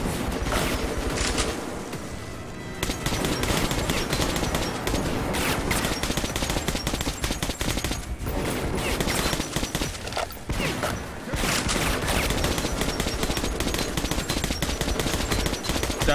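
Sustained gunfire in the Metro 2033 video game, dense rapid automatic bursts rattling almost without pause, loud and continuous with brief lulls.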